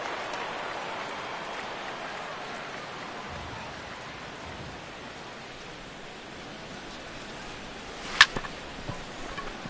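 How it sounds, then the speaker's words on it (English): Steady rain falls in a baseball video game broadcast, a soft, even hiss that carries on alone throughout, with one sharp crack near the end. "as the rain continues to fall here"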